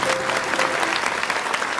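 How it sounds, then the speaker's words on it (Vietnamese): Applause from an audience at a children's Bolero singing show, dense and steady for the whole moment, with a faint voice briefly under it. "Một tràng pháo tay nữa cho Đức Vĩnh và Quỳnh Anh."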